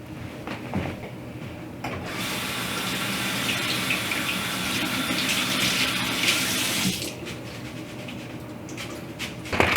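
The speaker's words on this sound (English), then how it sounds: "I'm going to clean up my mess, wash my kale, spin it dry" A kitchen tap runs steadily, rinsing kale in a sink, a loud continuous splash and hiss that rises fuller in the middle stretch before easing back, with no talking.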